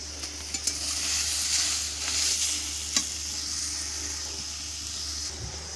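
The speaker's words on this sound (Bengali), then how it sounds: "উনুনে রান্না তো, কাঠের উনুনে রান্না।" Kalai bora (lentil dumpling) curry cooking in a pot on a wood-fired stove, giving a steady, close sizzle and frying hiss with soft stirring scrapes and a few sharper clinks of utensil against the pot.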